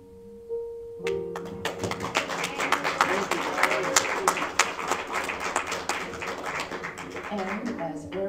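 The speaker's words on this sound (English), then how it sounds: "Hold your applause" Applause breaks out among a community gathering at a volunteer appreciation celebration, starting after a brief pause and swelling into steady, fairly close clapping from a modest crowd, with some voices mixed in.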